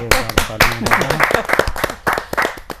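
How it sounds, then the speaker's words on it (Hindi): An audience at a Hindi kavi sammelan (poetry gathering) applauds to welcome a poet: a loud, dense burst of clapping with voices calling out over it at the start, tapering into scattered claps. "तालियां इसलिए बजवा रहा हूँ क्योंकि बाद में भरोसा नहीं है"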